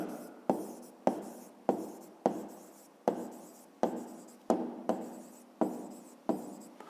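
A pen writes out a maths solution on paper in short, regular strokes, about a dozen crisp scratches with sharp starts, close and quiet, in an otherwise silent room.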